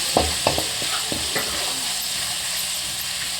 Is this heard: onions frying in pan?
yes